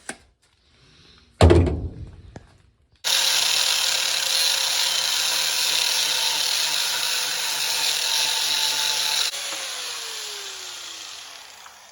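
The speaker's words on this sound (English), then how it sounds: "So I'm going to drill another hole right here" A power drill bores a hole for a shifter arm through the back of a homemade truck cab: a sharp knock, then a loud sustained whine that drops slightly near the end.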